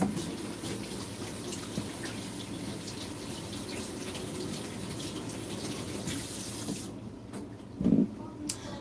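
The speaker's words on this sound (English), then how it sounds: "I'm going to wash my hands." Running tap water gushes steadily as hands are washed at a kitchen sink, a continuous close hiss that cuts off near the end with a couple of brief clunks.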